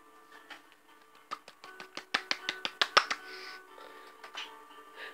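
A quick run of small, crisp video-game taps or claps, a crowd of rats giving tiny applause, about a dozen, building to a brief flurry and then fading, with a faint tonal hum underneath.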